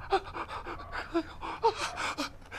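A voice imitates heavy panting like a touring car racer, with quick rhythmic breaths and gasps in short bursts.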